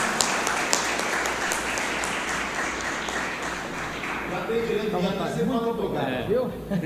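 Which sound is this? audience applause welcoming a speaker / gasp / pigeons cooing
audience applause welcoming a speaker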